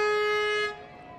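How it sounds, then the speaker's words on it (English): A single sustained horn toot from a Kaiser Permanente mobile health unit vehicle at the Bakersfield Christmas Parade, loud and close, ending after about 0.7 seconds. "giving us a nice honk as it comes down to downtown Bakersfield."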